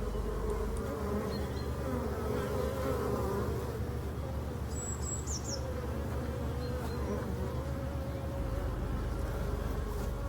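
Steady buzzing of many honeybees close by among flowers in late February, a continuous droning hum that fills the whole stretch without pause.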